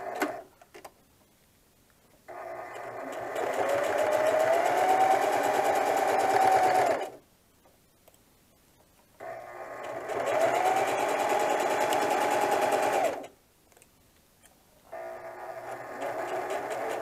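Three separate runs of a sewing machine, each a few seconds long with short pauses between, stitching elastic along the bottom edge of a diaper bag tote, a close, steady whirring hum.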